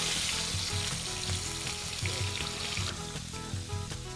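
Shrimp sizzle and fry after being dropped into very hot oil for tempura, a steady dense crackling hiss with bubbling, close and fairly loud throughout with no talking.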